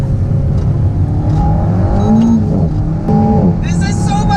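An Alpine A110 mid-engine sports car drives hard, its engine note rising and shifting under continuous excited talk from the driver inside the cabin.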